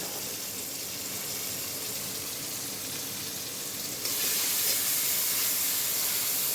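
Garlic dropped into hot cooking oil sizzles with a continuous close hiss that grows louder and brighter partway through, with no voices.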